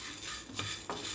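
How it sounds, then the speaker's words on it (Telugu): A cup of chana dal (Bengal gram) dry-frying in a pan gives a steady, close hiss, broken by two brief scrapes of a spoon stirring through the lentils. "బాగా వేయించుకోవాలండి. ఇట్లా కమ్మదనంగా వాసన వస్తుంది ఇప్పుడు వేగినట్టు."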